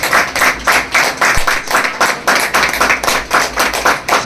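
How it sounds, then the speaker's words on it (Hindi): A crowd welcomes a NEET exam achiever at a community honouring ceremony with loud, rhythmic clapping: steady unison beats about three per second, close and sustained for several seconds without speech. "तालियों के साथ जोरदार स्वागत।"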